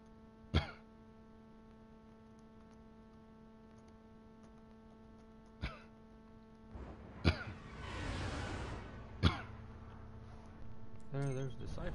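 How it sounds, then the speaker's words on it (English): Several short, sharp coughs or throat clears spaced through a quiet stretch of game sound, close and fairly loud, with one longer burst of noisy breath near the middle. "Apologize in advance for the coughing."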